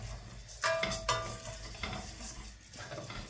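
Barley rice dry-roasting in a pan, with a spoon stirring and scraping against the metal in a few distinct clinks and a soft rustling, gritty sizzle between them.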